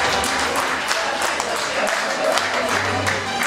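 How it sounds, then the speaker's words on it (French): Audience applause at a book signing for Professor Sahiri Léandre, a dense, sustained patter of clapping from a crowd, fairly loud and continuous, with a low hum running underneath. "Ce que je vous demande de faire, c'est d'une fois de plus l'applaudir plus fort."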